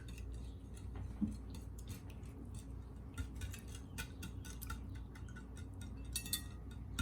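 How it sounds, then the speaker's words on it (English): Eggs being mixed in a bowl for an almond flour cake batter, with quiet, steady light clinks and ticks of a utensil against the bowl in a fairly still room. "Now we're gonna mix."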